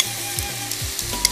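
Steady sizzling of onion frying in a very hot wok over high heat, with a few soft stirring knocks and scrapes over the continuous hiss.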